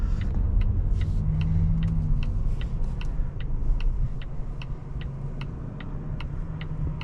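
Cabin sound of a 2023 Volvo S90 B6 on the road: a steady low engine and road rumble fills the interior while a soft, regular ticking, like an indicator, repeats throughout.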